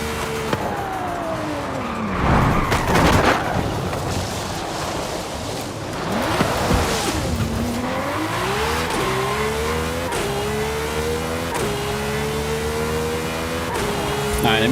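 A Lamborghini Diablo GTR in Forza Horizon 5 with all-wheel drive, its engine revving and climbing through gears, with tires squealing and skidding through hard cornering, loud and continuous.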